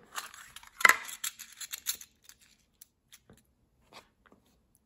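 Scissors snip through crochet yarn in a few close, crisp cuts during the first two seconds, then only faint small handling clicks follow in near silence.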